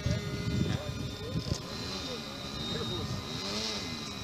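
Ultralight trike aircraft on its first flight, the engine droning steadily as a constant whine and hum while people talk over it throughout.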